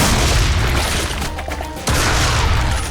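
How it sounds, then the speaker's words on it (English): A double barrel shotgun fires in a first-person shooter video game, two heavy booming blasts about a second and a half apart, each with a dense crashing tail. "we have a return to form here with the double barrel shotgun"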